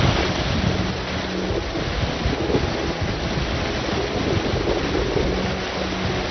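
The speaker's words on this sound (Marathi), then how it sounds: "पावसामुळे नांदेडच्या मन्याड नदीला पूर आलाय।" The flooded Manyad river in Nanded rushes after heavy monsoon rain, producing a loud, constant roar of turbulent water with no pauses.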